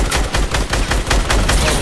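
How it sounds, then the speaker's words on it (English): A minigun in Fortnite fires a continuous rapid stream of shots, a dense rattling burst of evenly spaced impacts sustained loudly throughout. "use that minigun, minigun them now"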